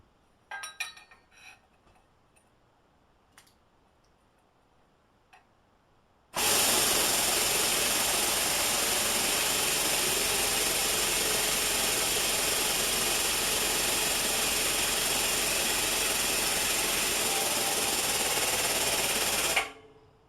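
A 30 ton Princess Auto shop press crushing a length of half-inch conduit: a few faint clicks, then a loud, steady broadband mechanical drone from the pump holds for about thirteen seconds before cutting off abruptly.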